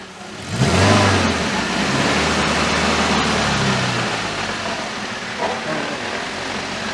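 A Daihatsu Terios 4x4 engine revs up loudly and holds a steady, droning roar, with a low humming undertone from the differential that fades slightly toward the end.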